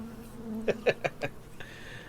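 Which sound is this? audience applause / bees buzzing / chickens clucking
bees buzzing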